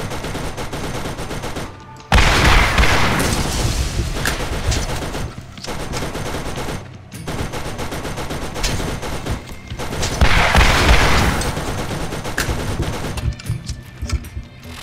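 Rapid Gatling gun fire from the Borderlands video game, loud sustained bursts of fast automatic shots with brief gaps between volleys and no talking.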